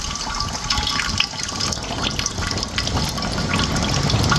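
Sugarcane juice pours from an opened valve into a pot, a steady close gushing and splashing of liquid that builds slightly in strength, with no voices.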